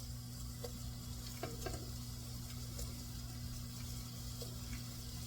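Ground sausage frying in a pan while being broken into pieces, a steady soft sizzle with faint scraping and stirring taps, close but quiet, no talk.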